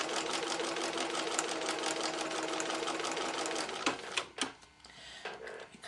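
A sewing machine stitches fabric segments onto a 1.5 inch fabric strip with a quarter-inch seam, running in a fast continuous close-up whir that stops and starts in short bursts near the end.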